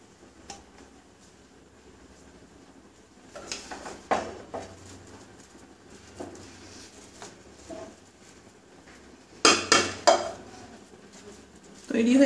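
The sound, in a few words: stirring chicken tehari with ghee in a pot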